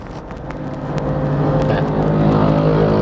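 A 2013 Toyota Fortuner 3.0 V 4WD accelerates hard, its engine roar building loud and close over a few seconds, with a faint voice underneath.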